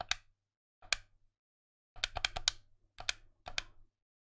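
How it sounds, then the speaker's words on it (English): Button clicks on a PowerA wired controller for Nintendo Switch, sharp close plastic taps: two single presses, then a quick cluster of five or so, then two more spaced clicks, with silence between. "You can hear the little, the clicking."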